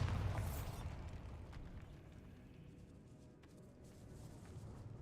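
A Bombarda blasting spell in a magic video game bursts with a loud low boom at the start, then fades into a long rumbling decay over dim ambience.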